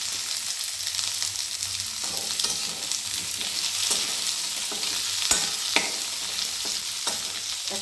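A bay leaf hits hot oil in a pan while cooking a Bengali neem sukto, producing a loud, continuous crackling sizzle with scattered pops and stirring scrapes, close up and without talk.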